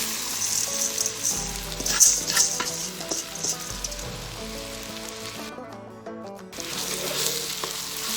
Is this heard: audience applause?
no